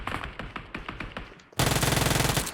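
Automatic gunfire in the mobile battle royale game PUBG Mobile bursts in loudly after a softer run of rapid shots, a fast rattling stream of rounds close up with no talk.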